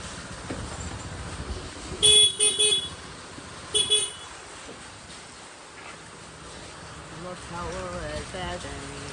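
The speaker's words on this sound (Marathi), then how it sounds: "एवढा पाऊस पडतोय." Heavy rain pours steadily on a street in Vashi as traffic passes, with two short car horn toots standing out near the start amid the constant wash of rain.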